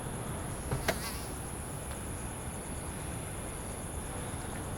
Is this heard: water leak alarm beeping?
no